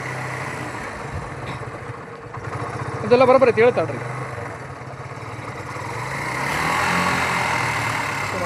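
A tractor engine runs with its hydraulic system working, a steady close rumble that swells slightly near the end, while someone talks over it.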